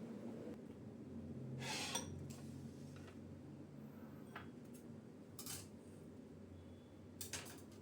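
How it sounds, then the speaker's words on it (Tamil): A knife cuts banana and apple on a plate, giving a few faint scattered clinks and taps against a quiet kitchen background, with no talking. "இப்போ வாழைப்பழமும் ஆப்பிளும் கட் பண்ணி எடுத்துக்கலாம்."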